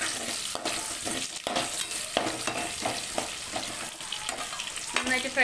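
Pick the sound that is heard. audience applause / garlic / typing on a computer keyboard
garlic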